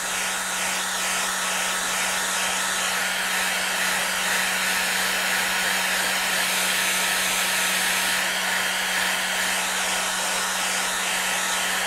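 Hair dryer blowing steadily and loudly on a painting, a constant close whooshing roar with a low hum throughout and no talking.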